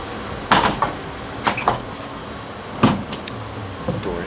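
The front doors of an equipment rack close with four separate knocks and thuds, spaced unevenly over a few seconds, near and fairly loud against a quiet room.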